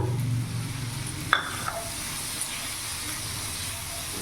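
Egg bhujiya with chopped capsicum being stirred in a pan, a steady soft sizzle with scraping from the stirring and one sharp clink of utensil on pan near the start.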